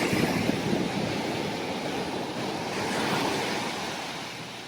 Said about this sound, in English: We are at Anse Lazio beach